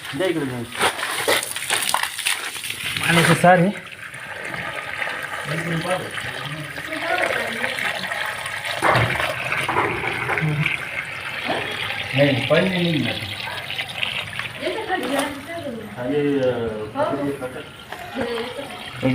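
Water from a borewell pipe flushing into a hole in a wall to drive out a snake, a steady rushing and splashing flow heard close by beneath ongoing talk from several people.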